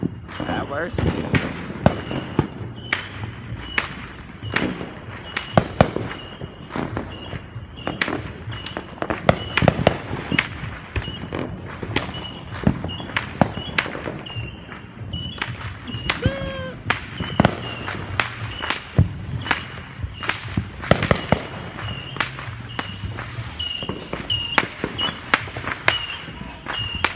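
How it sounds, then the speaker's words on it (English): Dense Fourth of July fireworks explode overhead and nearby in a nearly continuous barrage of loud bangs, crackles and whistles, with people talking underneath. "Oh, that one's up above me."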